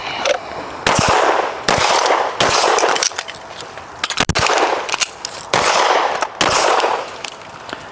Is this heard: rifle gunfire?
yes